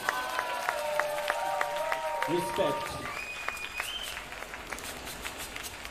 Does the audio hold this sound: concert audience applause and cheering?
yes